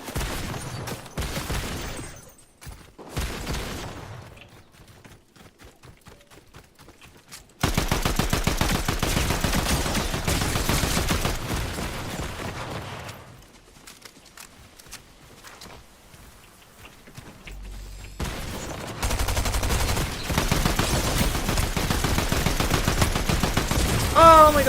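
Bursts of submachine gun fire in a first-person shooter match, rapid automatic volleys coming in several long stretches with brief pauses between, loud and close, alongside game sound effects and footsteps.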